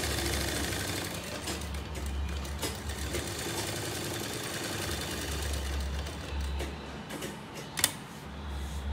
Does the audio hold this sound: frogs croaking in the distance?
no